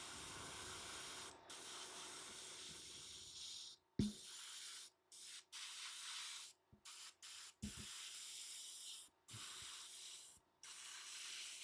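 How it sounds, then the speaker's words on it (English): An airbrush sprays paint onto a Tyranid Ravener miniature in a series of soft, steady hissing bursts, broken by short pauses and a faint clack or two of handling, with no voices. "So when you're using an airbrush, you don't want to pull it back too hard."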